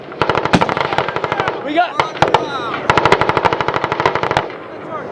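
Marine Corps machine guns fire on a live-fire range at Twentynine Palms, loud rapid bursts of sharp shots in quick strings separated by short gaps, with a shouted voice briefly breaking in between bursts.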